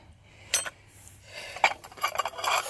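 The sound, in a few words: spoons and dishes clinking while being handled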